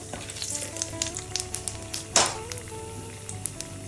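Whole spices frying in hot oil for a Bengali pomfret fish korma, a close, steady sizzle with crackling pops and one louder spitting burst midway.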